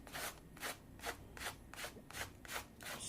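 Dried salt being scraped off a watercolor journal page in a steady series of about eight soft rasping strokes, close and quiet, with no talk.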